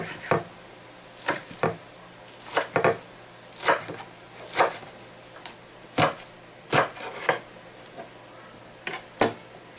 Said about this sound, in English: Chop our green onions.